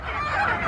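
Chickens clucking while being fed outdoors on a farm in Agusan del Sur, a brief, steady burst of close clucking.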